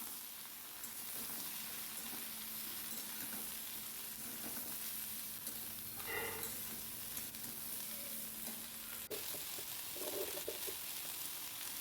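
Ridge gourd and potatoes fry in a pan with a steady soft sizzle and occasional stirring scrapes, heard up close with no voice.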